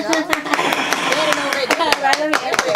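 A live studio group claps hands in quick, uneven bursts, sharp close slaps scattered over a few seconds beneath talking and laughter.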